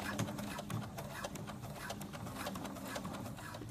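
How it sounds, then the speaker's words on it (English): A steady, fast mechanical whirring with rapid rhythmic ticking, like a sewing machine stitching continuously at close range. "The sewing machine needs a little encouragement."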